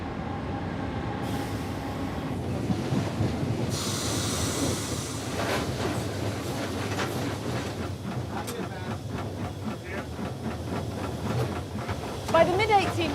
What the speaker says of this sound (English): we're now throwing a huge number of trains across them every day